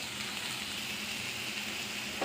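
Mustard oil heating in a pan before hilsa fish goes in, giving a faint, steady hiss and crackle with no talking.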